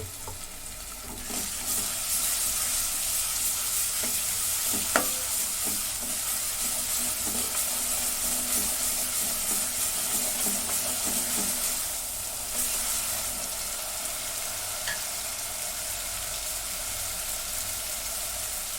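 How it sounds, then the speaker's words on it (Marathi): Two spoonfuls of ginger-garlic paste fry in oil over browned onions for a spicy mutton curry, a continuous close sizzle with occasional spoon scrapes and clinks, no voices. "आता ह्याच्यामध्ये मी आलं लसूणची पेस्ट टाकून घेते दोन चमचे"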